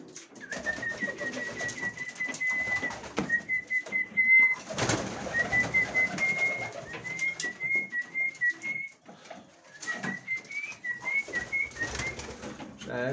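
Pigeons coo in a loft during breeding season while birds sit on eggs, a close series of soft warbling coos and whistling calls repeating in short phrases, with occasional wing flaps and a brief rustle.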